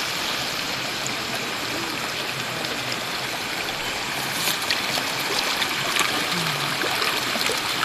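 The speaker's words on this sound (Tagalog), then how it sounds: "May sapa sila dito guys." A small stream flows over rock formations on a farm in Aleosan, Cotabato, a steady close wash of running water with a slight rise in level toward the end and no voices.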